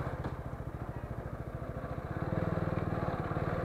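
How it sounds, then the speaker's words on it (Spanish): Motorcycle engine running steadily at low revs with a rhythmic, throbbing pulse while riding slowly to park in Jardín, Antioquia, growing slightly louder toward the end. "voy a buscar para parquear allí la moto"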